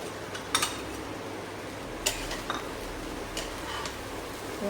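Fried chicken, egg and vegetables are stirred gently in a pan, giving a few light, scattered scrapes and clinks over a quiet background hiss.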